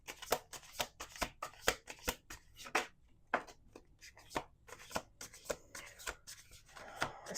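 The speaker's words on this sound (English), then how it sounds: "Last shuffle." Tarot cards riffled and shuffled repeatedly up close, a dense run of crisp flapping bursts with a brief pause midway before the shuffling resumes.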